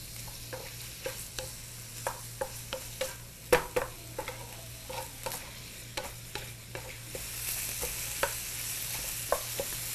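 Squid strips are stir-fried in a home kitchen pan until dry, a steady low sizzle broken by regular scraping and tapping of a utensil against the pan, close and clear with no talking.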